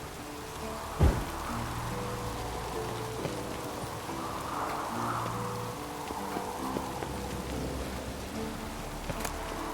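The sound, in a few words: rain in the video game The Witcher 3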